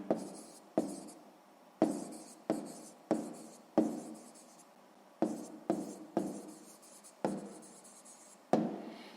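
Pen writing out a maths answer on paper, close scratchy strokes in short bursts of varied length, a dozen or so separated by tiny pauses, with no talk.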